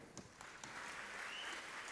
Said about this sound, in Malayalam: നല്ലൊരു കൈയടി തന്നെ